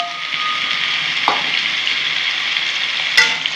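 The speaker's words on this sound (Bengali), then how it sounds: "এগুলো একটু ভেজে নেবো।" Okra and drumstick pieces frying in a pan, a steady soft sizzle with a couple of brief scraping stirs, close and alone without talk.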